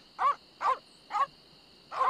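Dogs guard the governor's mansion in The Secret of Monkey Island video game, giving four sharp, evenly spaced barks at a moderate distance over a faint steady background tone, with no talking.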